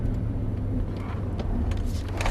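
A car on a test track brakes hard and drops down to third gear, its engine giving a continuous low rumble that swells slightly toward the end, with no voices.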